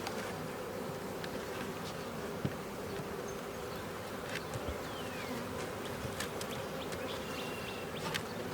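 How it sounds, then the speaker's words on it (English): Honey bees buzz steadily around an open deep brood box in a backyard hive in August, a dense, continuous hum close by with occasional louder individual bees passing near. "Now the bees can start working up."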